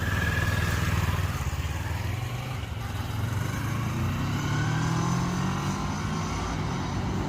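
A Kawasaki Versys 650 motorcycle rides along while shifting up through the gears with a quickshifter, its loud engine drone rising in pitch and dipping briefly at each smooth shift.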